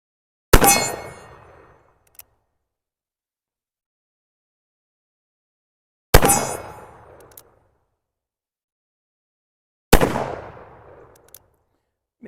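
A Cimarron MP523 revolver in 44 WCF fires black powder loads: three loud, sharp shots spaced several seconds apart, each followed by a short decaying echo and a faint metallic click.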